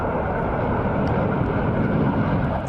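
Loud, continuous roar of an aircraft landing in Yemen, a steady dense engine and wind rush filling the whole stretch without pause or talk.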